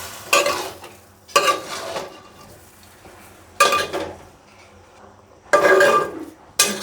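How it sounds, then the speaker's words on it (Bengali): Mushrooms being sautéed in a pan, with bursts of stirring and scraping clatter recurring every couple of seconds over a quieter, steady sizzle. "কষিয়ে আমি ঢেকে দেব।"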